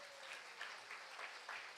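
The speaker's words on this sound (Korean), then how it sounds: "박수 한번 쳐요." A church congregation at a Sunday afternoon service claps together, a faint, brief patter of hands with soft pulses, heard from a distance.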